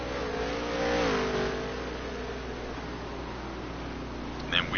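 Dirt touring race cars run a qualifying lap in a racing game, an engine droning and rising then settling into a steady hum, with talk faintly present.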